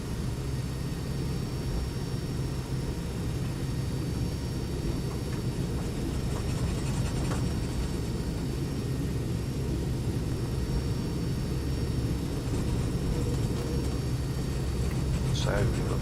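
Boeing 757-200 without winglets, in Avianca livery and weighing about 95 tons, taxiing in X-Plane 11 on the way to the runway, giving a steady low engine rumble and whine throughout, with a faint brief chirp near the end.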